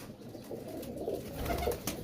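Domestic pigeons kept in a loft coo softly in low, rounded murmurs, with several birds overlapping in a steady, close hum against faint background noise.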